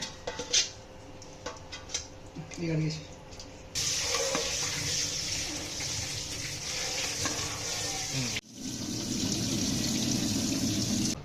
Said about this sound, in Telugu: వాటర్ పోసుకొని పెట్టుకోవాలి